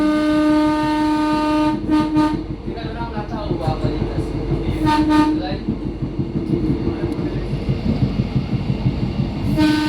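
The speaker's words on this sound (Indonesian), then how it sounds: "keretanya udah mulai jalan lagi, siap untuk menuju stasiun terakhir, yaitu stasiun Bandara Internasional Minangkabau" Minangkabau Express airport train rolling toward Minangkabau International Airport station, a loud steady rumble of wheels on rails with several long horn blasts over it, and a voice speaks briefly.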